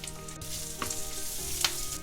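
White sesame seeds and fresh curry leaves frying in hot oil for cornflakes chivda, giving a steady soft sizzle with a few brief crackling pops, heard alone without talk.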